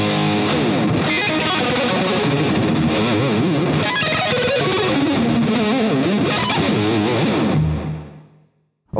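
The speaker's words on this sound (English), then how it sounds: "the next up, again, Rocktron boutique line is the Mega Booster" Electric guitar played through a Rocktron Mega Booster boost pedal, a dense, driven run of loud sustained notes and chords that rings out and cuts off near the end.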